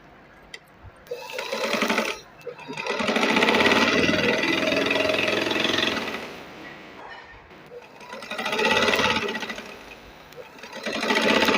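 An electric sewing machine runs a straight stitch on a garment sleeve in three long, loud, rapid bursts, each a buzzing whir separated by brief pauses.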